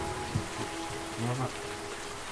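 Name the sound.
heavy rain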